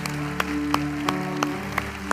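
A church congregation claps in a steady rhythm of sharp, evenly spaced hand claps, set over sustained organ-like musical tones that carry underneath.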